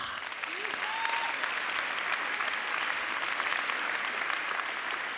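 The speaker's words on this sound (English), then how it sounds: "keep that applause going for Yvonne from Hawa Dawa" Sustained audience applause at a startup pitch event, an even wash of many hands clapping throughout, with a brief whoop or whistle rising early and no speech.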